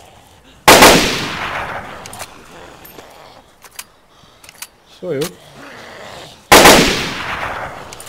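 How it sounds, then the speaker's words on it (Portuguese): Two loud gunshots in the video game DayZ, about six seconds apart, each with a sharp crack and long echoing tail, with quieter game noises and a short spoken phrase between them. "Consegue ouvir esse tiro?"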